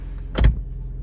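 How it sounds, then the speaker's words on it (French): A Volkswagen Golf 8 R in sport mode lets out a single short, deep exhaust pop, close and punchy, standing alone against a quiet low rumble. "Ça fait vraiment des petits pops très sympas"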